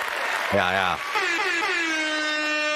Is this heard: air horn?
yes